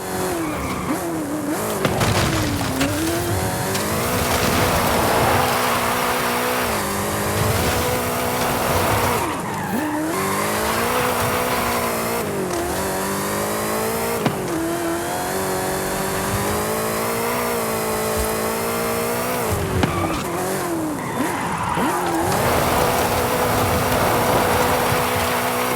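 Tires squeal continuously as a car drifts in Forza Horizon 5, the engine revving and dropping between slides, loud and close with no one speaking.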